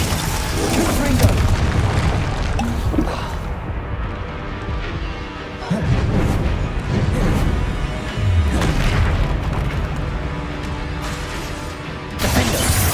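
The Confringo explosive spell in the video game Hogwarts Legacy goes off as a few deep booming blasts in heavy, continuous combat noise, each one loud and close.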